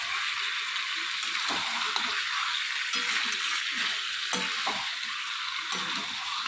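Meat sizzles and crackles steadily in a hot pan, a close, constant frying hiss with a few louder pops and stirring scrapes throughout, and no voices over it.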